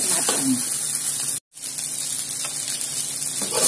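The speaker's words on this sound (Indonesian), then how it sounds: "Terakhir, seledri. Aduk sampai matang." Celery stir-fried in a hot pan sizzles steadily and loudly, the frying hiss broken by a brief silent cut partway through before resuming.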